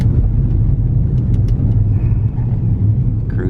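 A Ford Bronco cruises down the road with a steady, loud low engine rumble and road roar that holds unbroken for the whole stretch, with no voices over it.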